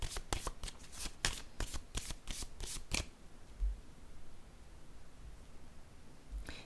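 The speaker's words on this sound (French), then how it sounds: "Je vais déposer une carte ici." Tarot cards are shuffled in quick, crisp riffling bursts during a card reading, then the sound stops and a card is laid down softly, with faint handling noises afterward.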